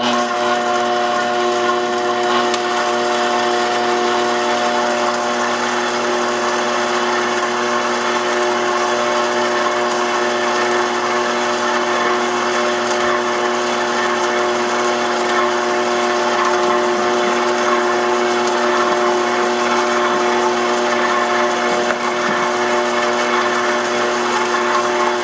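A stand mixer running steadily, combining sourdough brioche dough ingredients with no butter yet, with a continuous motor whine and no pauses.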